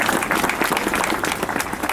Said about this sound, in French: On peut leur applaudir.